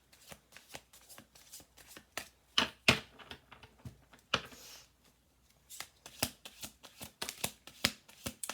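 Cards handled and laid down on a table during a tarot reading, a close series of crisp slaps and flicks in uneven bursts with a short quiet pause midway, no voice heard.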